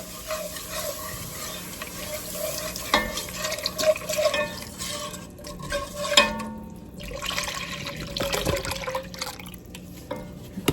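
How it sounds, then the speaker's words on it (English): Half and half is stirred into a pot of Olive Garden-style chicken gnocchi soup, giving a steady, moderate swish and slosh of liquid with soft scrapes against the pot and no voices. "we are going to stir this around and let it simmer until it begins to thicken"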